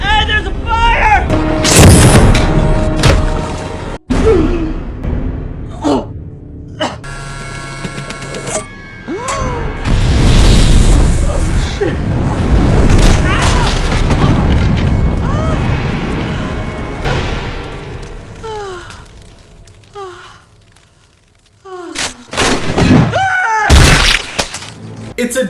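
Fire and explosions from a Final Destination movie scene: loud crashing booms, shattering and roaring blasts run almost continuously, with a brief lull near the end before more sharp impacts, mixed with voices speaking.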